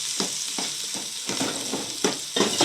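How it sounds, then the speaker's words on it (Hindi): Ghee and masala fry in a cooking pot for a vegetable handi with carrots and peas, giving a steady sizzle with a few louder crackling bursts and stirring scrapes, close and continuous, with no talking. "घी डाल रहे हैं, कम था मसाला"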